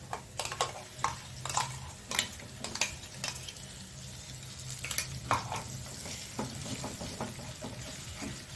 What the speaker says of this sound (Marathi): आणि याच्यामध्ये व्यवस्थित मिक्स करून घ्यायचं आहे